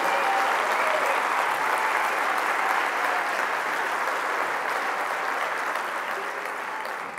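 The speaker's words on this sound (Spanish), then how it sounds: "Y un aplauso muy fuerte para Jesús" Steady, dense applause from a large crowd at a municipal political rally in Alcorcón, sustained and loud throughout with a slight fade at the end, no speech over it.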